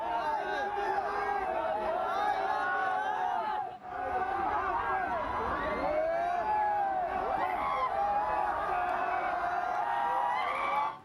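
Fans crowd outside Amitabh Bachchan's Jalsa residence, a continuous babble of overlapping voices with shouts and whoops, loud and busy throughout.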